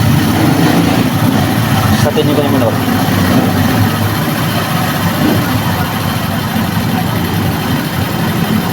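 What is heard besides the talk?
motorcycle engine running after installing CBI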